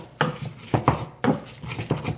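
Grinding of onions and pepper by hand for Ghanaian ɛtɔ, heard as repeated close scraping, knocking strokes in an uneven rhythm with short pauses between bursts, alone without talk.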